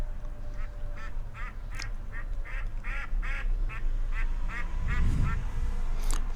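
A duck quacking in a rapid run of short, nasal calls, fairly close and loud over a low background rumble, with a louder burst toward the end.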